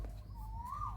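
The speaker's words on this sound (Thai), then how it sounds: "เสียงนกกาเวานะครับ" A single rising Asian koel whistle, clear but fairly soft, over low outdoor background rumble.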